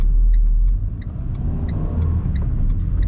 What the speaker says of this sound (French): Et le moteur, bah, dès qu'on accélère, on va l'entendre un petit peu là